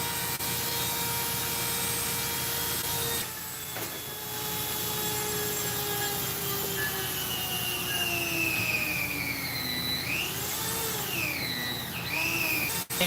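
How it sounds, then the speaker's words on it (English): A Dremel rotary tool runs steadily, its high whine sliding down and back up in pitch as the bit bores holes in a workshop, with a short dip partway through. "Bit on the Dremel does a pretty good job also of making holes with less smell"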